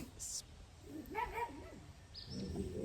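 Dogs out in the woods give a brief, faint run of whining yips partway through, mixed with light outdoor background noise and a person talking.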